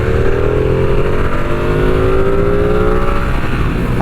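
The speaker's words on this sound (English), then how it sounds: "Let's just give her a quick wind." A 2022 Ducati V2 Streetfighter with shortened gearing revs steadily, loud and close, its engine note rising through a sustained wind-up with no one talking.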